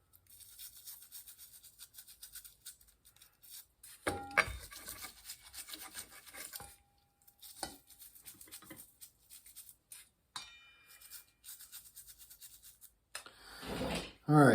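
A greasy part is scrubbed clean with a brush in a workshop, giving uneven rasping strokes in bursts with short pauses, fairly close and moderately loud, with a harsher burst at the end.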